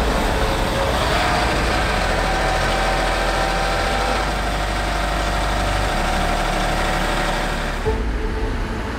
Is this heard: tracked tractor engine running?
yes